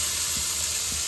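Cumin seeds sizzle in hot butter for pav bhaji, a continuous even hiss of frying close to the listener with no voices over it.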